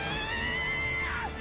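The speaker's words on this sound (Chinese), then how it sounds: "第二声惨叫，这次更近了" In the Werewolf Village video game, a second, closer scream rings out, a sustained wavering cry that slides down sharply at the end over a low background hum.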